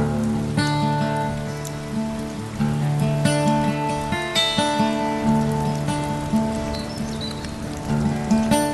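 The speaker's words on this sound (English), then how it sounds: "It's raining" Steady rain pattering on surfaces at a farm in winter, with dense close drips and splashes running through the whole stretch alongside faint tonal background sounds.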